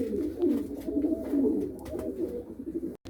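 Pigeons coo in a loft, continuous low rolling calls from several birds nearby, ending with a brief dropout.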